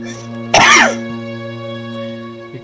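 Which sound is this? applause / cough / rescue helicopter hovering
cough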